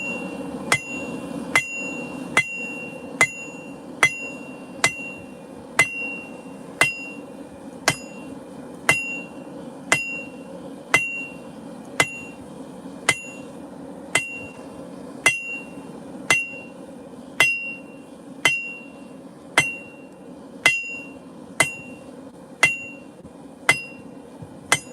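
A hammer rings on hot steel in a forge, striking at a slight angle to bevel a meat cleaver blade, with steady evenly spaced metallic blows, each a bright clang with a short ringing decay, repeating about once a second.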